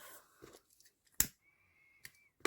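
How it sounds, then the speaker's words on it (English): Scissors snipping off excess ribbon while making a hair bow, a few sharp close cuts, with one crisp snip standing out among quiet handling sounds and no talk. "Cut that extra off."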